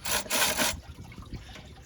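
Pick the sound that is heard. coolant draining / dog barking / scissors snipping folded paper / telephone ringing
coolant draining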